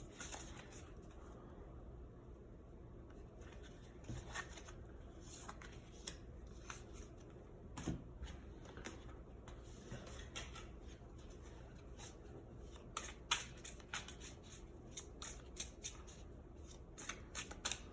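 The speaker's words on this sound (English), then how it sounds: "let me know if you like the shuffling, or if you don't like the shuffling" A Moonology tarot deck is shuffled by hand in close, quiet repeated riffles and soft card slaps, with irregular bursts of crisp flicking over a low room hiss.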